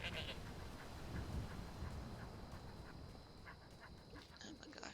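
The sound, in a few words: goat bleating in Skyrim Anniversary Edition video game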